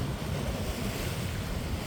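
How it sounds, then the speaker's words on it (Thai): Strong sea waves surging near a fishing village, a continuous broad wash of surf with wind noise buffeting the microphone, steady and loud throughout with no voices. "คลื่นแรงมาก"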